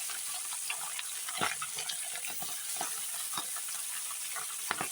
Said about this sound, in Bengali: দেখো তেল গরম হয়ে গেছে এখন মাছগুলো ছেড়ে দেবো মাছগুলো আস্তে আস্তে ছেড়ে দিচ্ছি